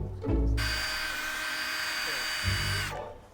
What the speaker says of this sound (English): I use finer and finer papers to grind away the discoloration.